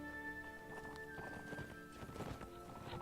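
Horses galloping in the video game Mount and Blade: Warband, a steady rapid clatter of hooves in a medieval battle, fairly faint under a droning, tonal background.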